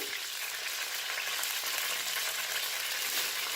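Zarda rice cooks in a pan with added water and sugar, giving a steady, bright frying sizzle that stays even and close throughout without any talking.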